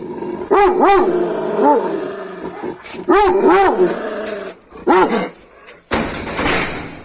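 A dog growls repeatedly with bared teeth, close and loud, in rising and falling snarling bursts with pauses between, ending in a short scuffling noise.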